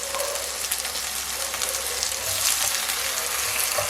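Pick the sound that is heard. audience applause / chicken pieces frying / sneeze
chicken pieces frying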